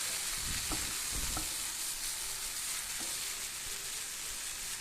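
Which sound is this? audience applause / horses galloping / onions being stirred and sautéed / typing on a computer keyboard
onions being stirred and sautéed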